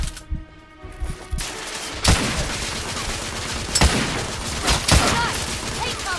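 Coach gun blasts fired in the Victorian-era shooter game The Order: 1886, with several sharp, loud shots spaced a second or so apart over a constant background of combat noise.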